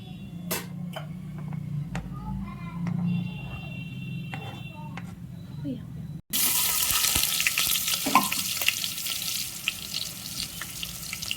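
Cumin and onions frying in oil in a hot pan, cooking for a home-made green chicken dish: a steady close sizzle, quieter with low background sounds at first, then a sudden louder hiss once the onions hit the oil.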